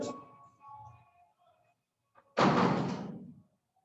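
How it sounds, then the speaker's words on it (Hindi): A door shut firmly in a classroom, a single loud slam after a brief rattle of the latch, following quieter indistinct sounds and a pause. "बेटा दरवाजा ठीक से लगा यार"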